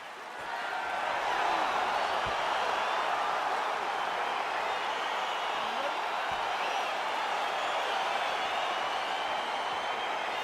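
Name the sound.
arena crowd in the video game EA Sports UFC 4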